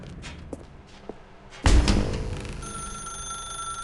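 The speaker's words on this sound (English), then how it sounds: "Now pick up the phone" A telephone bell rings in The Stanley Parable video game: a sudden loud burst after a quiet stretch, then a steady, sustained ringing tone that continues at a close, clear level.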